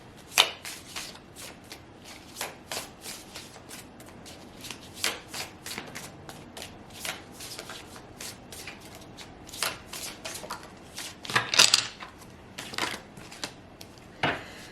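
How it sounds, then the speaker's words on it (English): Oracle cards being shuffled by hand: close, crisp bursts of riffling and card slaps in an irregular rhythm, some louder than others, with no talking. "Let's pull some oracle cards."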